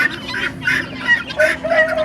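Farm ducks in a coop, a mother with her ducklings, quack and honk repeatedly in short, nasal bursts, several birds calling close by in an irregular, overlapping chatter.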